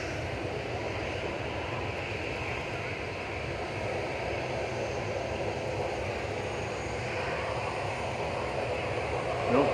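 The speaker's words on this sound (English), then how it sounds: "Ryanair from Milan, just touching down on 23 right." A Ryanair jet from Milan touches down on runway 23 right at Manchester Airport, a steady broadband engine roar and rumble filling the scene from a distance, with faint voices talking underneath.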